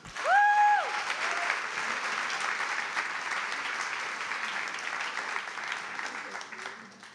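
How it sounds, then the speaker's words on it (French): Audience applause at a French-language business event, opening with a sharp whistle over the clapping, then steady crowd applause that gradually fades. "ils méritent une grande main d'applaudissements eux aussi"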